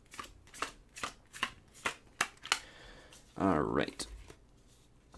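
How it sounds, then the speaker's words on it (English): A deck of Magic: The Gathering cards is riffled and shuffled on a cramped table, giving a run of sharp, rhythmic card snaps that ends in a dense, louder riffle-and-bridge burst, with a brief spoken word near the start. "We'll shuffle over here in what limited space that we have."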